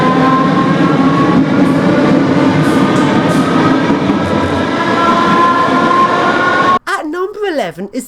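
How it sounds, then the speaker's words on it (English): A small Glasgow Subway underground train runs loudly and steadily with a dense rumble and rail noise, then cuts abruptly to a quieter passage near the end. "It has tiny little underground trains."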